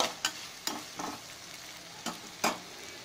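Onions and green chillies sautéing in a pan give a soft continuous sizzle, broken by several sharp scraping strokes as a spoon stirs them, close and moderately quiet.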